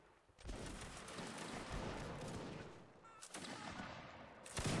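Musket volley fire in a Napoleonic Wars line battle video game: a dense, sustained crackle of many shots fills most of the stretch, dips briefly, then returns loudly near the end.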